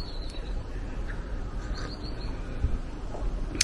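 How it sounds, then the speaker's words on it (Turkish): Birds call and chirp outdoors in a garden on a cool morning, a few short, faint high chirps and one brief sharper call near the end over steady low background noise. "Ay kuşların sesini duyuyor musunuz bilmiyorum."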